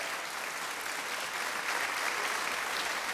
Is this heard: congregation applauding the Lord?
yes